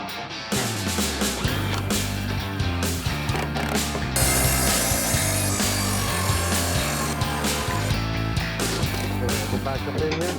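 A power saw cuts through wood sheets in a house attic renovation, a steady loud grinding and whirring run with rattling mechanical texture, continuing throughout with some talk underneath.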